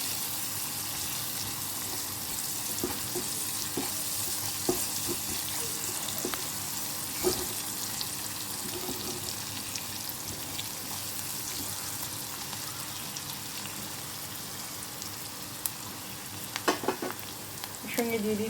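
Dried red chillies splutter in hot oil in a pan, a continuous close sizzle with scattered pops and stirring scrapes, and a few louder clatters near the end.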